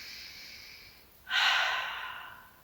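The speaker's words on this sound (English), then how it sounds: "We're gonna have one last big breath here." A single deep breath taken during a Pilates shoulder stretch, a soft airy inhale followed by a louder, longer exhale close to the microphone, with no talking.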